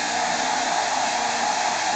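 A hair dryer blows on a pet monkey, a loud, steady, close-up whooshing roar that holds an even level throughout, with no talking.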